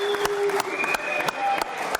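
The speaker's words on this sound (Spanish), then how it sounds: "les pido brindemos un caluroso y cariñoso aplauso" Applause from the floor of a legislative chamber session, marking a deputy's birthday, with a steady wash of claps and a few sharp accents, mixed with tonal sounds and murmuring voices.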